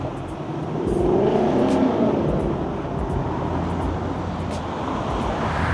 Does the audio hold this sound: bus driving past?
yes